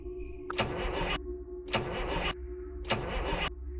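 A stalled car on a dark backroad is being cranked, with three separate bursts of the starter grinding over a steady low hum, each lasting about half a second with short pauses between them, and the engine never catching.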